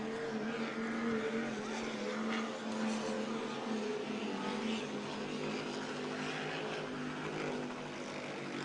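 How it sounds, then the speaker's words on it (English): Steady engine drone of racing offshore powerboats speeding past at a Space Coast Super Boats race, a continuous roar with rising and falling passes at a distance. "Some of these boats are throwing up a pretty big rooster tail as they go by."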